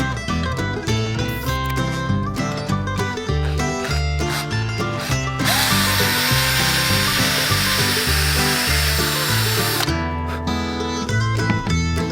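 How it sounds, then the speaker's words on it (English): A cordless drill whirs in short bursts drilling indexing pins for a guitar neck and fretboard, then runs continuously for several seconds before stopping, with tonal motor whine and some tapping around it. "Then I'm going to use my cordless drill and drill the indexing pins."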